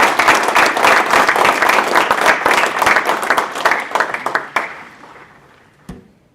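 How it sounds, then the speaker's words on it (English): People at a village board meeting applaud, loud, dense clapping from a room full of hands that holds steady for about four seconds, then thins out and dies away, with one last isolated clap near the end. "I think they deserve a round of applause"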